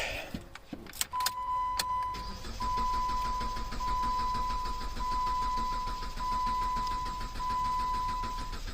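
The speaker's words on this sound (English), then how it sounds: "We'll get a nice long crank." A 2014 Jeep Patriot with the 2.4L engine cranks for a long stretch after a few clicks and key sounds, a steady rhythmic starter churn with a thin electronic whine, close and continuous, no talking.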